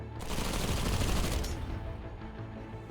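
Units open fire in the strategy video game Zephon, a dense burst of rapid gunfire and clatter that fills the first second and a half, then tapers into lower rumbling battle noise.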